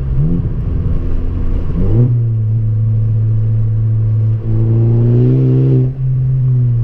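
A 2014 Ford Focus ST's engine revs up sharply and then settles into a steady, loud mid-pitched drone, with a couple of brief throttle blips near the end, alone and close.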